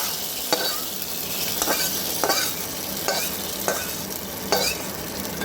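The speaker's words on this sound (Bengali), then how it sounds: "যেই ফোড়নটা ভেজে রেখেছিলাম সেইটা আমি খিচুড়ির ওই ওপর দিয়ে দিয়ে দেবো" Fried tempering poured over khichuri in a pot, then stirred with a spoon: steady sizzling throughout, punctuated by about six sharp scraping strokes at close range, with no voices.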